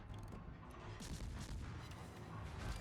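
Naval guns in a warship video game fire armor-piercing shells at an enemy ship's superstructure and upper belt, a dense run of deep booming blasts and rumbling explosions rolling one after another, loud and continuous with no talk.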